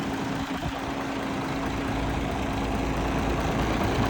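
A DAF CF460 truck tractor's large diesel engine idles with a steady low rumble and a constant hum, close by with no talking.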